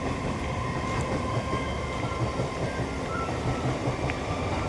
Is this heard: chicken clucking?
no